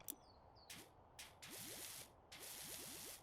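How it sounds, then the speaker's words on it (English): Faint, bubbly soap spray from a pressure washer in PowerWash Simulator, with soft rising bubble chirps and intermittent bursts of hissing spray, all quiet and close. "I like the little faint bubbly sounds that it makes"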